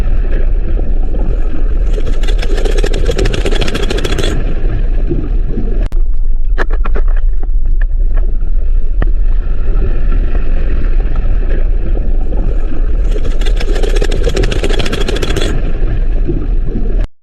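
Steady underwater rumble and hiss with bursts of bubbling, interrupted midway by a series of sharp low cracks and thuds from a magnitude 7.6 deep-sea earthquake off the Philippines, heard by divers, before the bubbling returns.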